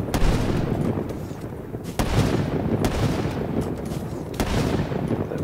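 Rapid gunfire from a Call of Duty Black Ops 3 sniper match, a dense continuous barrage with sharp louder shots standing out at intervals, no speech.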